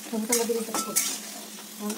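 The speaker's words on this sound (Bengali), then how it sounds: "এই যে শুরু হয়েছে ভাজা" Oil frying in a pan while a meal is cooked for a birthday, a steady sizzle with bursts of stirring and clinks from the pan, fairly close.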